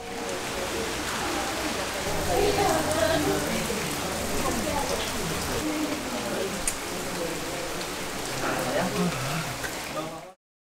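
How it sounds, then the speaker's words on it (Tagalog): Steady rain patters down continuously for about ten seconds, a dense hiss of drops with faint voices or tones mixed underneath. "Pagmasdan ang ulan, unti-unting pumapatak"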